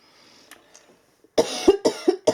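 A person coughs several times in a quick, loud burst of harsh bursts, close to the mic, after a quieter stretch with a few faint clicks and rustles.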